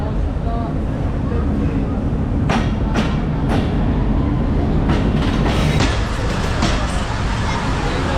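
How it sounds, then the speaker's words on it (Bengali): The Chapainawabganj shuttle train pulls into Rajshahi station with a loud, steady rumble of wagons. Several sharp clanks and squeals sound near the middle, and station noise fills the background. "মূলত এটা হচ্ছে চাঁপাই নবাবগঞ্জের শাটল ট্রেন।"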